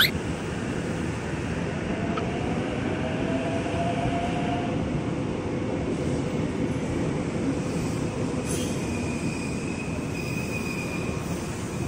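A KRL commuter train departs from platform 6 at Manggarai station with a steady, loud rumble of wheels and running gear, plus faint squeals and tones from the rails.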